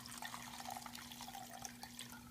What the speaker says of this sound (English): I'm going to go ahead and pour that through the strainer